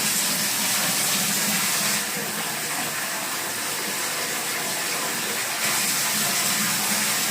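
Hot water runs steadily from a tap in a second-floor apartment, a continuous bright hissing gush that holds near and loud throughout, shifting slightly in intensity partway through.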